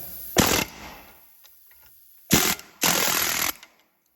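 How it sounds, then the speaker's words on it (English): An air hammer fitted with a spike hammers out the center of a control arm bushing on a 1965 Ford Galaxie, firing in three loud rattling bursts, one short, then two longer, separated by quiet pauses. "Now I take my air hammer that has that little spike on the end of it, and I drive that center piece out."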